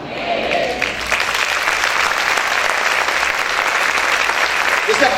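Church congregation applauding loudly and steadily throughout, a dense wash of many hands clapping in a large room, with a voice faintly audible underneath at the start.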